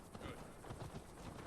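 Horse hooves gallop in Assassin's Creed Valhalla, a steady muffled clip-clop rhythm under game ambience with faint voices mixed in.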